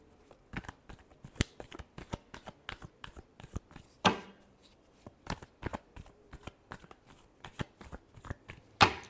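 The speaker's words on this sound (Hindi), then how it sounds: "Last shuffle." Tarot cards being shuffled by hand in a series of crisp riffling bursts and snaps, close and fairly loud, with one heavier flurry midway and no talk.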